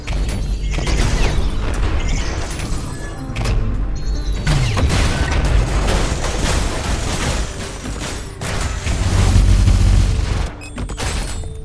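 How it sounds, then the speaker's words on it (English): Fireworks exploding outside on the Fourth of July, a sustained barrage of loud booms, crackles and bangs that continues steadily with no pauses. "Oh, it's fireworks."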